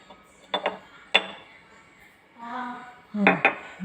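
Guava juice being stirred with honey and blended dates in a vessel, heard as a few sharp metallic spoon clinks against the container with brief scraping between them, close and clear with no talking.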